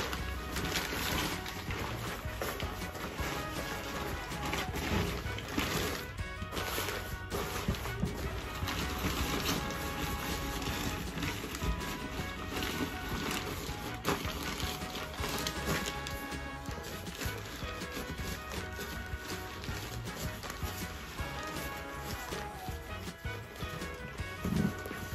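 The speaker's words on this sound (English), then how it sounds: "We're gonna go ahead and try to roll this up" Self-inflating camping mat being rolled up tightly while its release valve lets air out, giving a steady, continuous rustling and crinkling of fabric and foam that lasts throughout with no talk.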